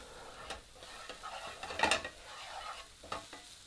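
Minced shallots sweat gently in a frying pan that still holds the duck breast fat, with a soft sizzle under scraping stirs and a few sharper clinks of the utensil against the pan, close and quiet.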